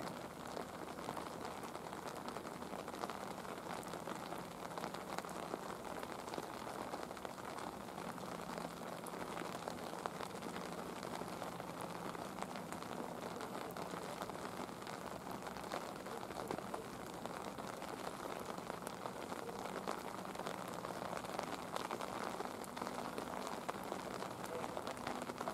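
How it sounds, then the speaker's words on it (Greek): Rain falls on a mountain on a February day, a soft, continuous patter of drops on surfaces that stays even and fairly faint throughout. "Τώρα αυτή τη στιγμή ρίχνει βροχή."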